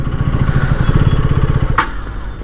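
A KTM Duke 250 motorcycle engine runs steadily during a test ride, a close, continuous low throb with a brief sharp noise near the end.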